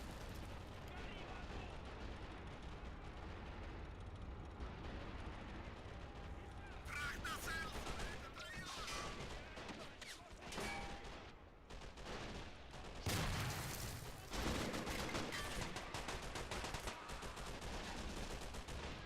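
Sustained, dense gunfire and heavy bursts pound a lightly armored vehicle in the World War II strategy game Men of War: Assault Squad 2. Loud, continuous volleys with louder blasts come in around the middle and near the end.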